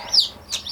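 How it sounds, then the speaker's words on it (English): Baby chicks in a brooder give a few thin, high peeps, brief and close, over quiet room background. "this is my little chick brooder set up for their first few days"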